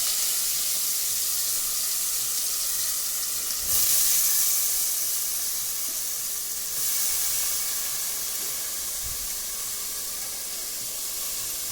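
Mustard seeds sizzle in hot oil while a home cook makes a curry, giving a steady close hiss with two short surges of louder spitting.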